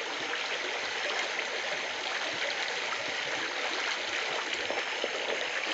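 Creek water runs steadily and continuously, a close, full rushing and trickling flow with no talk over it.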